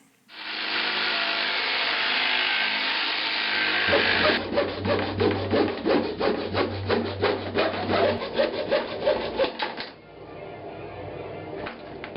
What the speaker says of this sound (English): I just used a jigsaw to cut off the large pieces, and then I used the coping saw to go around